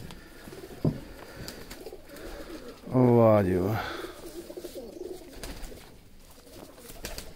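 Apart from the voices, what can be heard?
Ferozpuri pigeon cooing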